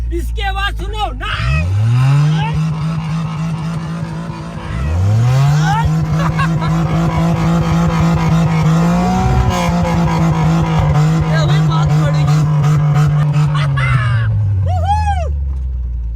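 Two Maruti Alto cars joined into a single four-wheel-drive machine rev their engine hard, the loud, close roar climbing and holding through repeated throttle pulls, then settling at the end.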